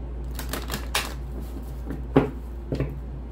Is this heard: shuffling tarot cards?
yes